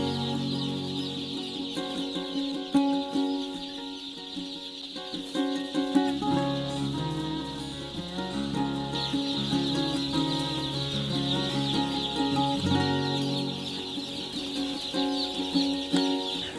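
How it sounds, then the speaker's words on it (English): Day-old chicks at a poultry farm, a dense steady chorus of high peeping that continues throughout, with low rumbling farm noise underneath and no talking. "let's get to see our day-old chicks here at the farm"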